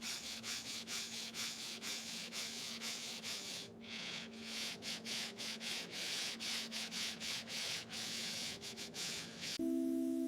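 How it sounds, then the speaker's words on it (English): Old paint is sanded off the body of a 1973 Porsche 911 Carrera RS in rapid rhythmic back-and-forth rubbing strokes, close but fairly quiet, with no talking. "Sanding the body smooth removes old paint, prepping for a flawless finish."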